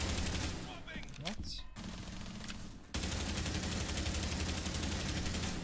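Sustained automatic gun firing in a shooter game, loud close bursts of rapid shots with a brief break and then a steady stream of fire; voices can be heard beneath the fire.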